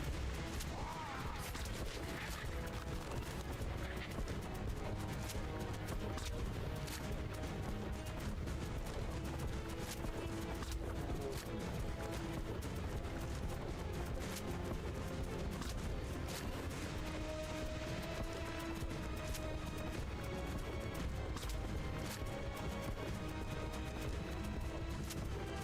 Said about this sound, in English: I'm just shooting rifle.